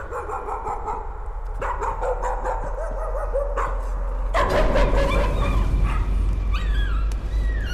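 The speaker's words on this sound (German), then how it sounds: "da wird doch gleich der Hund gequält" Nearby dog barks in short bursts and whimpers and yips high and thin, over a steady low hum that grows busier partway through.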